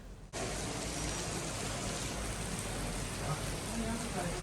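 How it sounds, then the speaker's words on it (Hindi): Heavy rain pours in Nathiyagali, a dense, steady hiss of downpour that starts abruptly and holds constant and loud with no break. "आप लोग बारिश की आवाज़ से ही अंदाज़ा लगा सकते हैं कि किस कदर तेज़ बारिश हो रही है"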